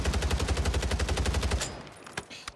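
Rapid automatic gunfire in a Rebirth Island video game match, a fast even burst of shots lasting about a second and a half, followed by a couple of isolated single shots.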